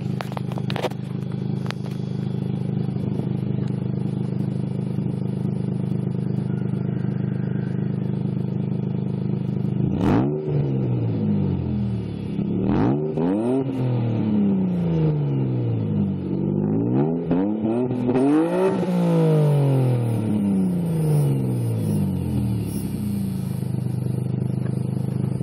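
A Mazda 626 V6 engine idles evenly without sputtering, then revs up several times in smooth rising and falling sweeps before settling back to a steady idle.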